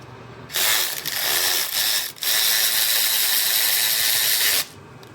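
A ratchet tightening engine mounting bolts on a Honda CX500 motorcycle gives a loud, close, continuous clicking whir for several seconds, with a brief pause midway, no voices.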